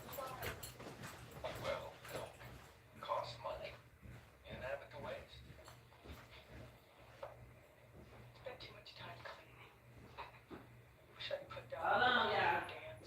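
Dogs whimper and yip softly, with faint, scattered cries beneath a person talking nearby in a quiet room.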